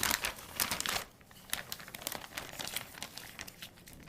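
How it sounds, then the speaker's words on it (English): A gallon zipper bag holding pork belly and cure mixture crinkles and rustles close by in irregular bursts, louder at first and then lighter, with no talking. "The pork belly goes in a gallon-sized zipper bag, then the cure mixture will be added to that"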